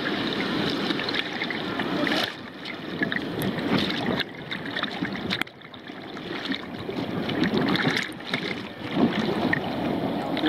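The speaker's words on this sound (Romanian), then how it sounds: "Sunt valuri mișto." Sea waves wash against a pier on the beach at Eforie Nord, a steady broadband surge with brief lulls, heard close over wind noise on the microphone.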